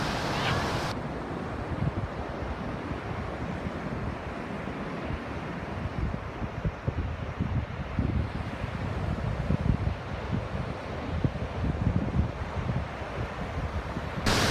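Ocean surf and wind at Muir Beach, a steady broad rushing wash with gusty wind buffeting the microphone, continuous and fairly loud throughout.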